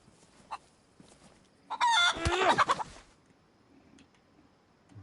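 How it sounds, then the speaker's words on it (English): Chicken in the survival video game DayZ, set on a vanilla server, giving a loud burst of clucking and squawking lasting about a second, with a couple of faint clucks before and after against quiet background. "I've got a chicken."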